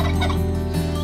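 A short, loud turkey gobble rattles out close by, a rapid burbling call with no talking.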